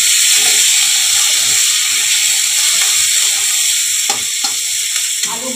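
Chopped onions sizzle loudly in hot oil alongside green chillies, giving a close, bright, hissing fry that holds steady for the whole stretch. Occasional clicks of a spatula sound against the pan, and no one speaks.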